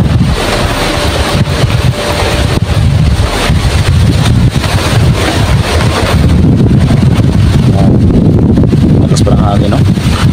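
Strong wind roars against the microphone near a creek, a loud, continuous buffeting rush with low rumbling gusts, while people talk over it.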